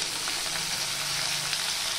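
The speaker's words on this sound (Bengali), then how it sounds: "এবার দিয়ে দিচ্ছি পেঁয়াজ" Sliced onion and garlic sizzle in hot oil over whole garam masala and bay leaf, a soft, even frying hiss with faint crackles, quiet and without talk.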